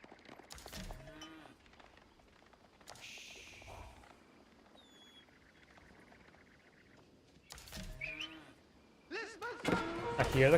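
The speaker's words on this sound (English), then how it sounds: "I hear the cows going." Cows mooing in the strategy game Age of Empires 4, faint lowing calls spread through the clip among quiet game effects, rising louder near the end.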